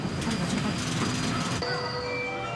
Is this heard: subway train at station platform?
yes